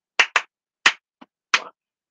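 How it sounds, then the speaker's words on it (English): In a Year 4 music class, hands clap a rhythm: five sharp, close claps in an uneven pattern, two in quick succession, then single claps, one of them soft, with silence between them. "Just clap with me."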